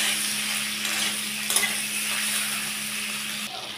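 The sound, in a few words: okra frying in a pan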